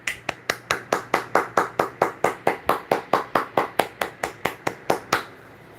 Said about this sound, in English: This is where I have to applaud you guys.